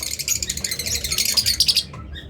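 A pair of lutino Fisher's lovebirds gives rapid, shrill chirps and squawks in close succession, loud and near, before the calling cuts off abruptly near the end.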